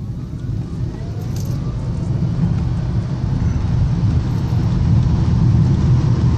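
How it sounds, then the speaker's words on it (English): A FIAT 500e electric car accelerates with a smooth, steady road and motor hum that builds gradually in loudness, close and continuous with no talk over it. "the 0 to 60 on this car is a lot of fun"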